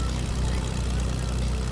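A steady, loud propeller-engine drone from a plane in a video game hums low and unbroken, with no break in the roar.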